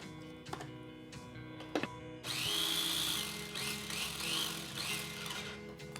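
A food processor pulses beef rendang spice paste (bumbu). After a few quiet clicks and knocks, the motor bursts into a loud, steady whirr that lasts several seconds.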